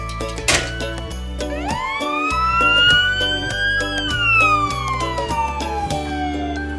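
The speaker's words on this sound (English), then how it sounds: "Ambulance." A toy ambulance's loud wailing siren sweeps up and then slowly down in pitch, sounding close by and continuous throughout.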